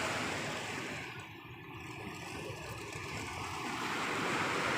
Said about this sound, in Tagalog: Lakas ng alon, eh, no?